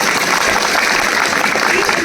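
Factory workers in an audience clap together, a dense, steady burst of applause that stays loud and even throughout, with no single voice standing out.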